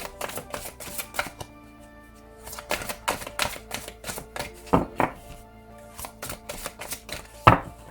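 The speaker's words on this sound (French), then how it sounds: "Hop, on va couper, ça va être plus rapide." A deck of tarot cards is cut and handled close up, giving a run of crisp, irregular clicks and soft slaps with no talking.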